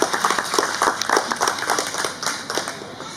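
An audience at the Vidyapati Samaroh in Singapore in 2022 gives warm, dense applause to welcome guests, with many hands clapping at once.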